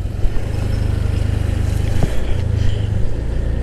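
A 2024 Honda Scoopy scooter engine revving hard while climbing a hill, a steady loud buzzing drone close up with wind rumble, no talk.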